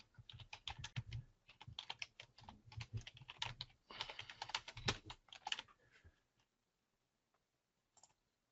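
Rapid typing on a computer keyboard, dense bursts of key clicks for about six seconds, then stopping with only a couple of isolated taps; fairly quiet and close, with no talking.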